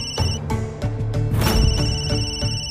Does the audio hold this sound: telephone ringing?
yes